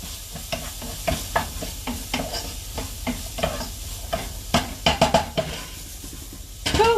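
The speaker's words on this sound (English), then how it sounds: "Get your wooden spoon and give it a good stir." A wooden spoon stirs pasta sauce in a pot, giving repeated scraping and clacking strokes over a soft sizzle, with a sharper burst of knocks and clatter near the end; no one talks.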